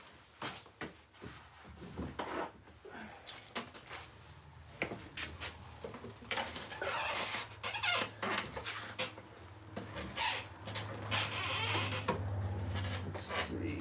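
A chair squeaks repeatedly amid scattered clatter and small knocks from nearby handling, with irregular creaks growing busier toward the end, close and moderately quiet.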